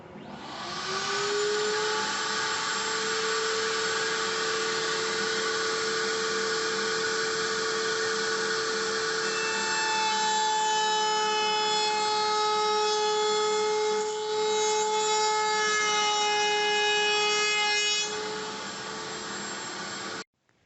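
Router mounted in a Rockler SL router lift running at steady high speed with a sustained whining tone, shifting pitch slightly as it cuts into wood, loud and close, spinning down at the end.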